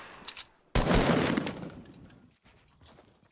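A drum gun in Fortnite fires a sharp, loud burst of rapid shots that begins abruptly and tails off, followed by scattered quieter gunfire and clatter.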